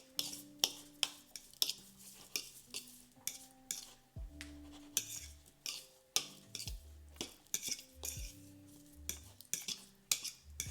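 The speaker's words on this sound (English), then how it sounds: "I'm just going to mix it around with a fork." Fork scraping and clinking in a bowl while mixing shrimp linguine ingredients, a quiet kitchen with repeated sharp metallic taps in an uneven rhythm, with no talking.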